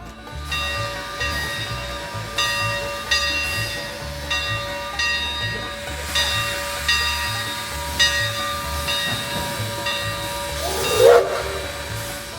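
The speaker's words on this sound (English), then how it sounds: "A Western Pacific steam locomotive on the old WP." A Western Pacific steam locomotive on the old WP line gives off a continuous loud hiss of venting steam, with a rhythmic low chuffing pulse underneath and a brief louder burst near the end, heard alone without voices.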